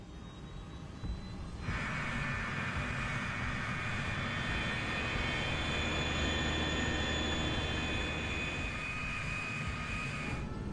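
A cargo airplane taxis toward the runway, its engines a steady loud roar with a sustained high whine and a low rumble that swells in after a quieter opening and holds evenly throughout, with no talking.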